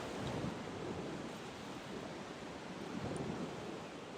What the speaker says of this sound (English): I can hear the waves crash every single day